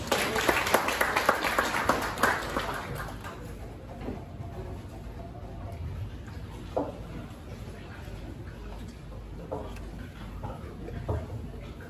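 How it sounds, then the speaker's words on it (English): Audience clapping at a fire safety enforcement opening ceremony welcoming a former senior superintendent, loud and dense at first, then thinning to scattered claps over a steady room murmur with occasional voices. "A hand of applause, please."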